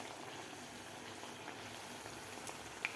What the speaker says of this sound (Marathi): व्यवस्थित असा गोल्डन कलर होईपर्यंत आपल्याला हे वडा तळायचा आहे.